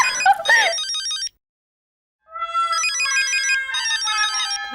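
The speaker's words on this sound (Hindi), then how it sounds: "कहाँ बज रहा है फोन?" An electronic melodic phone ringtone plays loudly in two bursts separated by about a second of silence.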